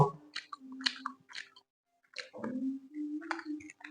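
Pitha, a Bengali winter festival sweet of the Poush Parbon season, being chewed up close, with soft wet chewing and mouth noises in two bursts separated by a short pause.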